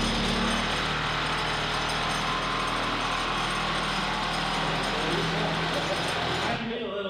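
Boom mechanism on an old wrecker truck moving after sitting unused for years, a loud continuous grinding mechanical drone that holds steady before cutting off near the end.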